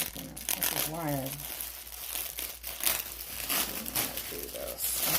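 Crinkling and rustling of plastic wrapping, in irregular bursts and tears close by, with a voice speaking briefly in between.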